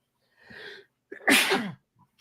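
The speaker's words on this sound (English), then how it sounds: "Sneeze it. Get it out." A single loud sneeze with a sharp inhaled buildup, then an explosive burst, close to the mic, followed by a faint breath.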